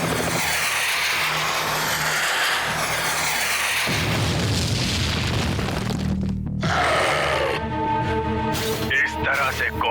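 Cartoon Agni missile launch and explosion in a Hindi action cartoon: loud rumbling boom and whooshing blast filling the clip, with a dense roar that drops out briefly near the middle before crackling debris-like noise resumes, over background score.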